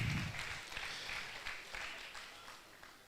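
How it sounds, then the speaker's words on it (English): Scattered applause from a modest crowd at a university valedictory ceremony, fading gradually over a few seconds, with a low murmur at the start. "let's still give him a round of applause"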